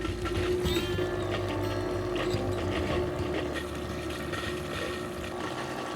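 A filter pump on a DIY stock tank pool runs steadily, a continuous low hum with a faint wash of circulating water, even and unbroken throughout with no voices.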